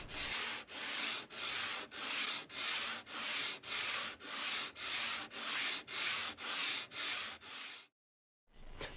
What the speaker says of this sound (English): the sanding board that I'm using actually has a slight dish into it as well